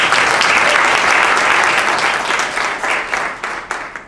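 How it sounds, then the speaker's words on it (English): Press-conference audience at the Port of Oakland breaks into a round of applause, loud dense clapping filling the room steadily, then thinning and tapering toward the end. "So let's give a round of applause."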